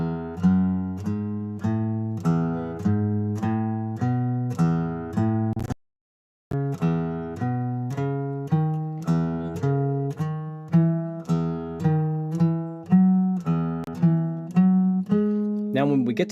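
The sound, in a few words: guitar scale played ascending in eighth notes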